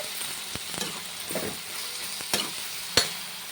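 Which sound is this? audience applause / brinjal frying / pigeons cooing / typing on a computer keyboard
brinjal frying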